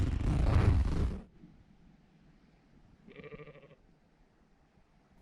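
Sheep on a Lofoten beach campsite in Norway: a loud, close burst of wind or rustling gives way to a single clear bleat in the quiet that follows, with faint ambience around it.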